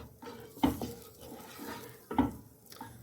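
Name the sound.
spatula stirring semolina and milk for suji halwa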